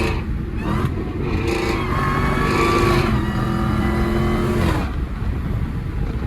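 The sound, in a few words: Dodge Hellcat engine revving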